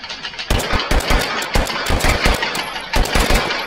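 A revolver in the VR shooting game H3 fires in a rapid, uneven burst of sharp gunshots, loud and close, as the trigger is spammed over a few seconds.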